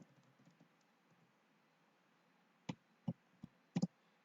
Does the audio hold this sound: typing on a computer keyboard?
yes